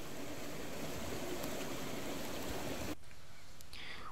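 Mountain valley stream at the first pool of the Bukhansan valley, a steady broadband rush of flowing water heard close and continuous, dropping suddenly to a quieter, thinner wash near the end.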